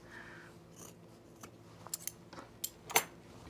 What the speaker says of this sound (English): I've trimmed that seam allowance down